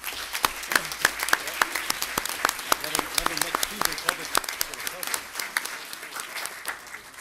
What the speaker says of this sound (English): Can we give all of the candidates a round of applause?